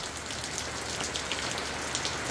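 Steady rain falls outdoors onto trees and surfaces, a dense even patter of drops that continues without pause and without voices.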